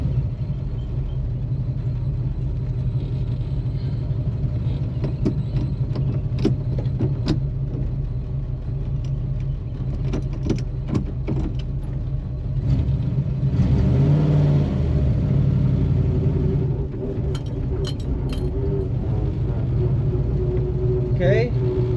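Chevrolet Nova engine rumbling steadily on its first drive, with a few revs and a louder surge midway, running continuously under faint background voices.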